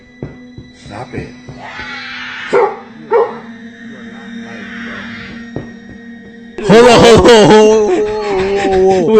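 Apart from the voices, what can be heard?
dog barking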